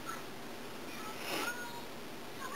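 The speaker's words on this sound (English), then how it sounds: "Don't meow at me, you booger." A house cat meows once, faintly, indoors, and the short call stands alone over a quiet room hiss.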